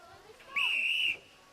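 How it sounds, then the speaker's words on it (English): A referee's whistle blows once at a netball championship match, a single clear blast of about half a second that sits faintly above arena ambience. "because the whistle had come when the ball would just left the hand"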